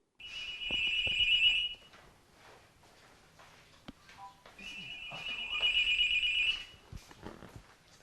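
A telephone rings with an electronic trilling tone in two bursts of about two seconds each, separated by a quiet gap with faint knocks and movement, close and clear.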